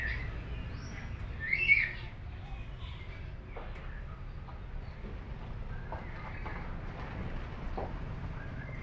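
A myna bird (beo) gives a short, fairly close call early on, then stays quiet against a low background hum.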